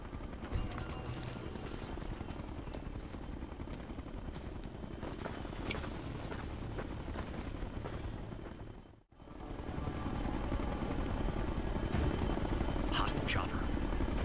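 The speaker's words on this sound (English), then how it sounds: "Hostile chopper to the left." A hostile helicopter in the Ghost Recon Future Soldier game thrums with steady rotor chop, loud and continuous apart from a brief cut midway, with gunfire-like clatter and voices mixed in.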